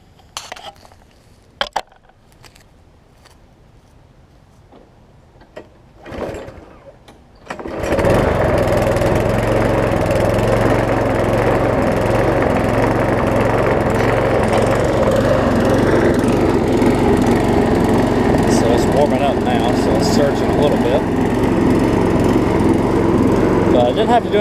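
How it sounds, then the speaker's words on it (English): A Toro Personal Pace lawn mower with a slightly bent shaft, freshly serviced, is cranked after a few quiet clicks and thumps, then its engine catches and runs loud and steady for the rest of the stretch. "So let's start it up."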